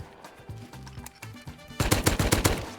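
Gunfire in the video game Rust: a few spaced single shots, then a dense, loud burst of rapid automatic fire in the final second.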